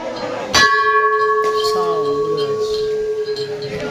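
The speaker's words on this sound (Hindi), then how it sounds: "देख घंटी बजाऊ" A bell is struck once at a temple-like place during a Holi outing, giving a sharp metallic strike followed by a long ringing, sustained tone that slowly fades, with people talking softly in the background.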